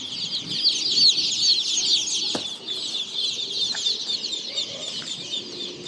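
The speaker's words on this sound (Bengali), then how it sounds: "এটা হচ্ছে কাজী কোম্পানি মুরগির বাচ্চা।" Kazi company chicken chicks crowd together at a poultry market, peeping loudly and constantly in a shrill, overlapping chorus, with a few brief knocks and clicks underneath.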